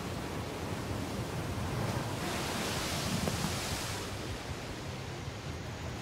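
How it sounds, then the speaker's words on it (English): Hurricane-strength storm winds and surf pound ashore near the Statue of Liberty, a dense continuous roar of wind and crashing waves with no distinct breaks. "Monster winds and waves slam into the Statue of Liberty and then barrel toward"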